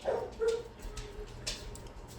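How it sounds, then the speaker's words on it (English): Dogs bark in the background of a home kitchen, a couple of short muffled barks and whimpers near the start, then quieter yips under a steady room hum. "Dogs are barking."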